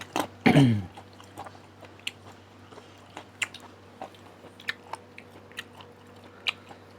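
Someone eats bitter gourd with Thai fish meal: one loud close bite opens, then a steady series of soft, moist chewing crunches spaced about every half second, with no talk.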